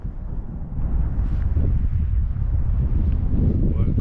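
Strong outdoor wind buffets the microphone on the Portuguese coast, a loud continuous low roar that swells slightly and never lets up, with no speech.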